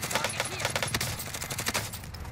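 Rapid gunfire in the shooter Warzone, a quick series of close, sharp shots in a short burst, with faint talk underneath.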